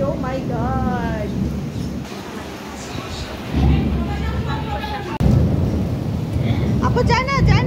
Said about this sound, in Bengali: কত জোরে জোরে মেঘ ডাকতেছে বাবা, আর কি সুন্দর বৃষ্টি